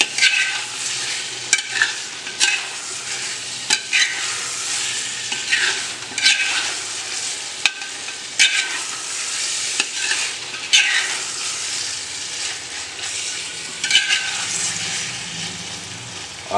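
Mutton and chicken pieces for a mixed non-veg curry sizzle and fry in a pan while being stirred, with a steady loud frying hiss broken by repeated scrapes and knocks of the spoon.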